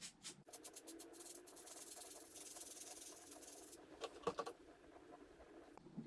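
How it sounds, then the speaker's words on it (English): A brass bristle brush scrubs wood-carving burrs packed with sawdust, making faint rapid scratchy strokes that ease into softer rubbing and a few light clicks, close and quiet with no talk. "Now I'm using just a brass bristle brush on these."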